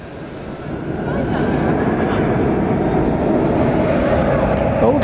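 Boeing 767 jets taxiing at night at DFW Airport send out a steady, low engine rumble that swells gently and holds, broad and droning at a moderate distance.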